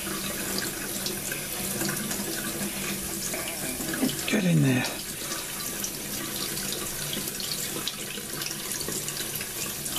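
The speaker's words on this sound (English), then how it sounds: "Get the cold water going." Cold tap water runs steadily into a sink close by, cooling a foam glider wing being straightened, with a brief rise in splashing midway and a short spoken remark over it.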